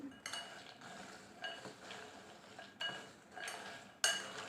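Cashew nuts being stirred with black pepper powder and salt in a pan, giving soft clinks and scrapes of a utensil against the metal at an irregular pace, fairly faint, with no talking.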